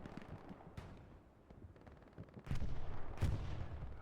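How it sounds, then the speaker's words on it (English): Artillery shells land in a Hell Let Loose match on Utah Beach, near a stuck tank: dull explosive booms and scattered gunfire, with two heavier impacts hitting loud in the last seconds. "Artillery coming down on that stuck 76."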